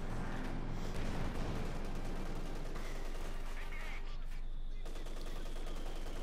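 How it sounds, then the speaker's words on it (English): Sustained machine gun fire and battlefield gunfire rattle on continuously in the game Company of Heroes 2, dense and fairly distant, mixed with heavier booms in a busy combat scene. "Machine gun on the way there."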